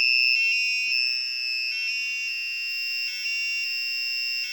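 A shrill electronic buzzer from an active piezo buzzer driven by an ESP32 beeps steadily in short repeated pulses, high-pitched and piercing, with nothing else audible.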